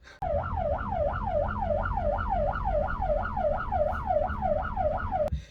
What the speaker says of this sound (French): Donc je suis dans cette ambulance, c'est assez bizarre.